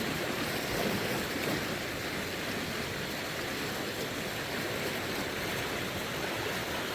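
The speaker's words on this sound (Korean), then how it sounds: "이 강물은 흘러 흘러 서울의 한강이 됩니다." Steady broadband rush of the Jijangcheon stream flowing through Jeongseon countryside, a continuous near wash of water with no voices.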